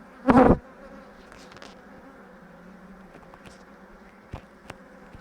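A honeybee colony hums steadily at an open hive, with a loud close buzz as one bee passes near at the start.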